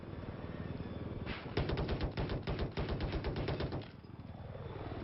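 Rapid automatic gunfire in Battlefield 4 during a 10-vs-10 Conquest match on the Rogue map, with sustained bursts of machine-gun fire up close, loud over a steady background rumble of engine noise.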